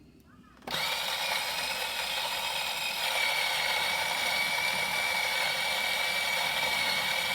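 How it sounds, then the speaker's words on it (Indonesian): A coffee grinder in a cafe in Wamena, Papua, grinding coffee beans: a steady, loud mechanical whir that starts abruptly and then runs on continuously for several seconds, close to the listener. "Habis itu saya harus giling sambil menunggu."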